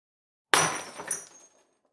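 A glass drops and shatters in a single sharp crash at close range, the burst of breaking pieces followed by a brief tinkling tail of fragments that fades within about a second; no talking.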